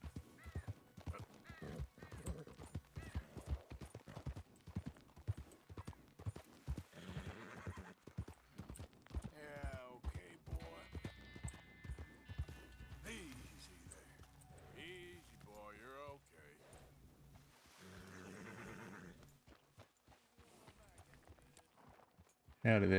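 In a video game, a horse walks with steady clip-clop hoofbeats and gives loud whinnies, while a voice talks at times over the hooves.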